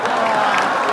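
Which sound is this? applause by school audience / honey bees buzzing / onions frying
applause by school audience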